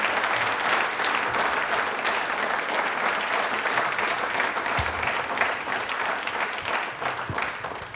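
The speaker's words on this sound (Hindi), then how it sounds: "बाबा साहब के लिए तालियां एक बार जोरदार।" Sustained, loud audience applause for Babasaheb Ambedkar at a Dr. Bhimrao Ambedkar Jayanti quiz programme, a dense steady clapping wash lasting throughout with no speech over it.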